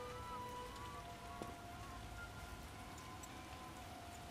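Steady rain falls and patters on surfaces in the video game The Witcher, a soft even hiss throughout, with a few faint tonal sounds in the background.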